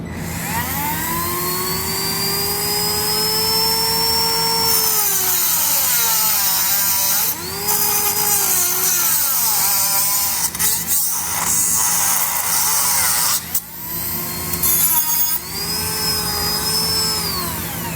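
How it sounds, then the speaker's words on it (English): A rotary tool whines at high pitch while cutting the exhaust hanger tab on a 2019 Jeep Compass, loud and close, dipping and rising in speed as it bites into the metal, with brief pauses. "I'm going to use a rotary tool just to make a quick clean cut"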